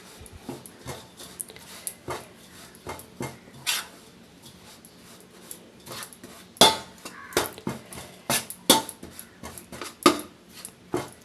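Sesame powder is stirred into curry leaf chutney, with a spoon tapping and scraping the vessel in irregular clinks and knocks, soft at first and louder near the end, close up.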